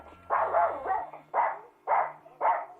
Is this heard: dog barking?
yes